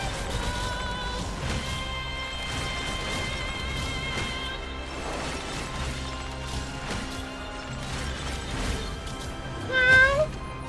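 A cat screams with loud meowing and caterwauling, most prominent in one sharp burst near the end, over a steady musical background with clattering hits.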